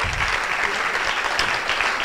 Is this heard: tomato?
no